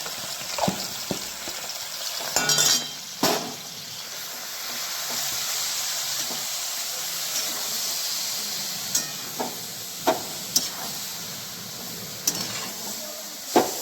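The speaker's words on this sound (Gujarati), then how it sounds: "આ ગરમ ઘીમાં આપણે આ દૂધીનું છીણ ઉમેરી અને ઘીમાં કાપીએ શેકી લઈશું" Grated bottle gourd roasts in hot ghee with a steady, loud sizzle, and sharp stirring scrapes and clinks break through it now and then.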